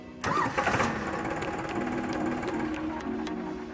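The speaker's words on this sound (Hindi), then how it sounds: "अभी देखिए ट्रैक्टर चालू हो जाएगा।" A Farmtrac Champion XP41 tractor diesel engine cranks and catches with a loud burst, then settles into a steady, rattling idle close by.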